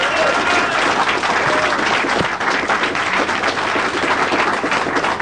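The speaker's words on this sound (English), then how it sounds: "Now, I say you give this man a thunderous round of applause." Thunderous audience applause erupts from a packed room, loud and close, a continuous roar of clapping with scattered cheers and crowd noise running for over five seconds.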